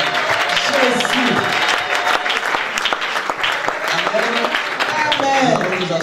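Congregation at a French church seminar clapping and cheering for Jesus, a dense, continuous applause with scattered shouts and voices mixed in.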